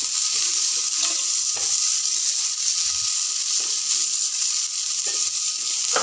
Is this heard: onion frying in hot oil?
yes